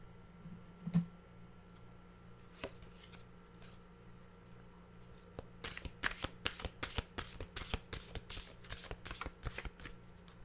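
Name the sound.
shuffling mantra cards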